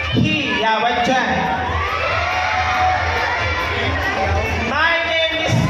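A crowd at a Miss Gay pageant in Barangay San Juan, General Trias, Cavite, cheers, whoops and shouts loudly and continuously, with children's high voices prominent in the din.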